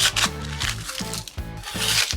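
Scraping rust from the steel floor of a narrowboat after the ballast is lifted, a steady gritty rasping in repeated strokes, close and fairly loud with no talk.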